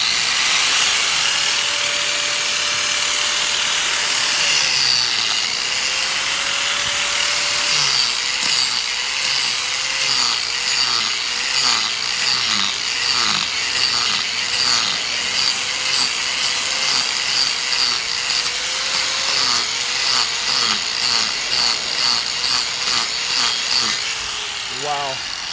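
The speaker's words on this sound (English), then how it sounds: "I don't have a guard for this grinder, so I'm having to be very, very careful with it the way it is." An angle grinder with no guard cuts into wood, making a continuous loud, close rasping and chattering whine that holds steady for the whole stretch with slight surges in pitch.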